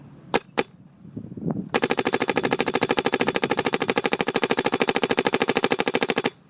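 A 2008 MacDev Droid V3 paintball marker fires a couple of single shots, then rips off a long, rapid, evenly spaced burst of sharp pops, loud and close.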